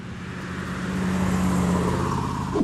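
A 1970 Plymouth Superbird muscle car engine, a steady loud low rumble that builds slightly and holds, heard alone without speech.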